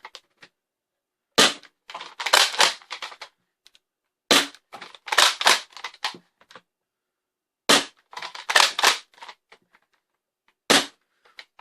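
Modded Nerf Longstrike blaster firing in slam fire, three bursts of rapid sharp clicking shots separated by silent pauses, then a single shot near the end, close and crisp with no talking.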